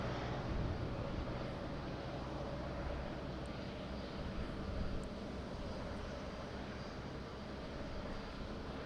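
A fixed-wing aircraft approaches Madeira Island Airport, a steady, distant low engine rumble holding evenly throughout with faint wind-like broadband noise and no voices.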